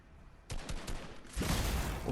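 Rapid gunfire from a powerful weapon in Fortnite, starting with a burst of closely spaced shots, then a louder, denser volley that continues to the end.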